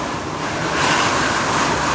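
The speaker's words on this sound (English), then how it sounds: "it's water just pissing through the door" Water forcing its way through a door during a cyclone makes a steady, loud rushing roar like surf, mixed with wind noise, and it swells slightly partway through.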